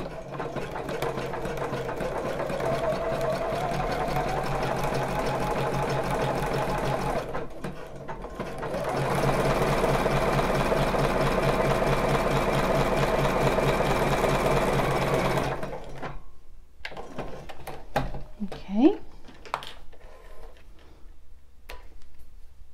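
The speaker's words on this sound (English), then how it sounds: "Again, lift up the foot, pivot this round, and sew back down to the beginning, halfway across the elastic or thereabouts" A domestic sewing machine runs loud and steady, stitching elastic onto a bra in two long continuous passes with a brief stop between, then gives way to quieter clicks and fabric handling.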